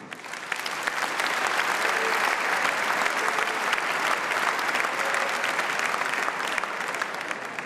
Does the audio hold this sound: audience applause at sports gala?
yes